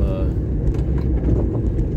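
A car drives through town traffic with a low, steady engine rumble, and someone talks over it.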